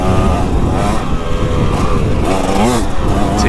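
2025 KTM 300XCW two-stroke dirt bike at partial throttle, engine note wavering as revs rise and fall, loud and close, with a voice talking over it.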